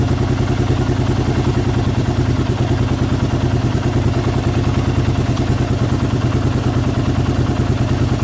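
Loud, steady Kawasaki KLR 650 motorcycle engine idle at about 1000 RPM with a rapid, even chugging pulse and mechanical clatter, close up and unchanging throughout.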